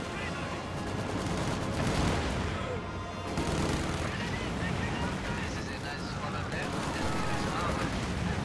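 Rifle fire from conscript infantry in Company of Heroes 2, a dense, continuous clatter of shots and battle noise running the whole length, with a voice talking over it throughout.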